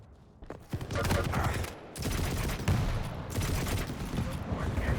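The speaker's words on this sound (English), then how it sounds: "iiinnnzzz just peppering him away with the HMG." Heavy machine gun fire in a competitive shooter duel, rapid bursts of shots running almost continuously at close range with a brief gap near the start, with speech underneath.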